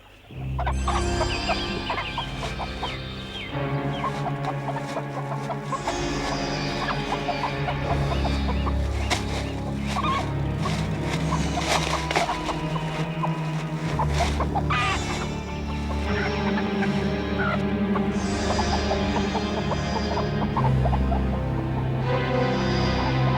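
A voice imitates a chicken, clucking and squawking continuously over a busy, loud background of music and noise.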